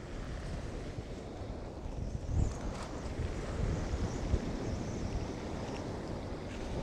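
Ocean waves break and wash on a beach during daytime fishing, a steady surf roar with wind noise on the microphone and no talk.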